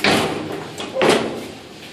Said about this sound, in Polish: Czyli tak trzaskały te drzwi, czy nie?